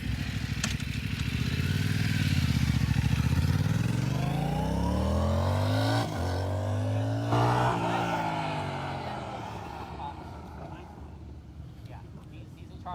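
Motorcycle accelerating hard on the NJMP race track during a riding school session, its engine note rising and sweeping up through the gears, loud and close, with a person talking over it.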